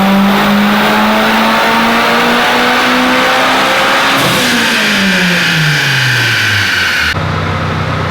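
A turbocharged Mitsubishi Evolution on a dyno at about 28 pounds of boost, its engine revving hard and climbing in pitch through a loud sustained pull before cutting off sharply near the end.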